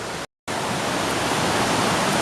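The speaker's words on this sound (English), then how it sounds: "So I can see the waterfall." Triberg Waterfalls in Germany's Black Forest roar as a steady, dense wash of falling water, loud and continuous apart from one brief dropout near the start.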